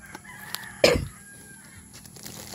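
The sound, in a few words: chickens clucking and rooster crowing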